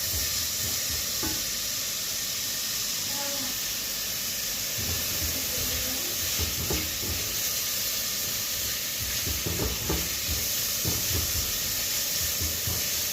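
Sliced onions fry in a pan with only a little oil, giving a steady, continuous sizzle and hiss broken by the soft scrape and rustle of stirring.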